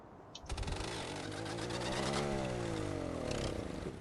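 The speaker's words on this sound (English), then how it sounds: "You can hear how bad this tractor actually is." An old, worn tractor engine in Farming Simulator 19 cranks and catches, then revs up and holds a rough, rising drone close by, with no talking.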